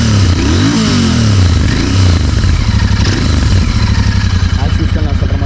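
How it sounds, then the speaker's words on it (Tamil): A Royal Enfield Continental GT650 exhaust revs loudly up and down close by, rising and falling pitch sweeps settling into a rapid, throbbing idle, with a voice talking over it. "இந்த வண்டியோட எக்ஸாஸ்ட் நோட் எப்படின்னு சொல்லிட்டு பார்த்தீங்கன்னா"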